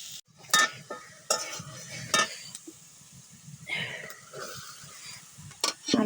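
Potatoes and dried baisha fish shutki are stirred in a frying pan, with a soft sizzle under repeated scraping and clinking of a utensil against the pan in short bursts.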